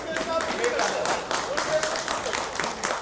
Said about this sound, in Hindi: क्या ताली बजा रहे हो भाई साहब?